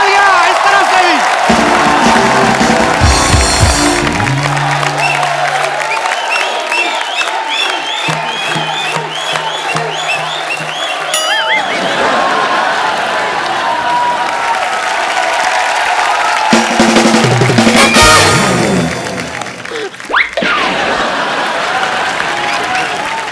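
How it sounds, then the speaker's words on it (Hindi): A studio audience on a comedy talk show bursts into loud, sustained applause mixed with cheers and whoops, interrupted by hosts speaking and musical stings, with the clapping swelling again later. "जोरदार तालियां इस तरफ से भी।"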